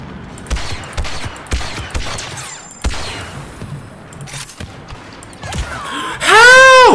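Blaster gunfire and battle effects from the video game Star Wars Battlefront, with repeated loud shots and bursts in the first seconds, then a rising electronic sweep at the end.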